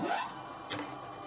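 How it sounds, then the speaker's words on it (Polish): A sewing machine stitches fabric for a tie in a brief, quiet burst of mechanical whirring and clicking, close by and without talk. "Podkładamy ponownie pod maszynę i zaczynamy szyć."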